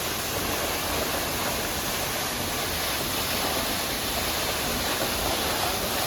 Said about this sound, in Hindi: तो तुम देख सका तो संगवारी हो कितना अच्छा झरना है